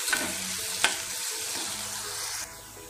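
Garlic, onion and curry leaves sauté in hot oil with a steady, close sizzle, broken by a couple of utensil clicks before the hiss drops noticeably quieter near the end.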